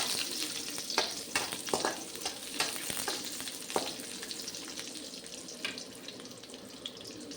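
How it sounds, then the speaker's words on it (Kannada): Half an onion and four garlic cloves fry in hot oil for a village-style sambroli gravy, a quiet sizzle with scattered sharp pops and stirring clinks, no talking. "ಹಾಕಿ ಚೆನ್ನಾಗಿ ಫ್ರೈ ಮಾಡ್ಕೊಳ್ಳಿ."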